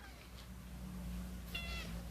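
A couple of faint cat meows on a dairy cattle farm, one brief and a longer one near the end, over a low steady background hum.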